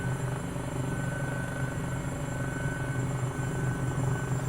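A free helicopter in Microsoft Flight Simulator flies with a steady, close rotor drone and engine whine, even and unbroken throughout, with no talking.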